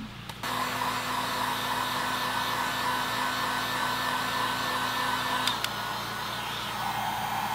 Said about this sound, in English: my neighbors are like doing stuff with the pressure washer. It's super loud